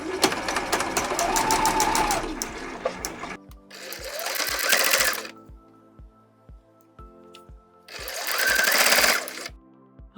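Sewing machine stitching tiny patchwork pieces with quarter-inch seams, fast rattling bursts of stitching broken by pauses with slow single ticks, close and loud, no talking.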